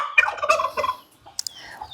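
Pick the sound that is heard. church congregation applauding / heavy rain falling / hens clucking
hens clucking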